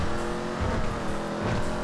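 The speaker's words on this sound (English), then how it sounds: "let's go ahead and start driving down" Steady engine drone of a car cruising down a freeway in GTA 5 with a modded highway, continuous and fairly loud with faint tire noise, no talking.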